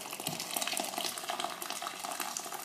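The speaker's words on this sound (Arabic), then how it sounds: "هنا غادي نزيدها دابا الماء" Water pours steadily into a pressure cooker holding cooked meat and chickpeas, a continuous rushing splash at even loudness with no talk.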